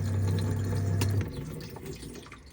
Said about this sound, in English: everything's just draining straight into the cassette